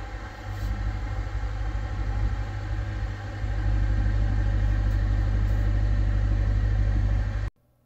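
A 2022 Corvette C8 rolling slowly forward, its engine a steady low rumble that swells slightly midway and then cuts off abruptly, with no voices.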